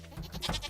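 A goat in the Stardew Valley video game gives a short, bright bleat of a few quick pulses, faint and alone.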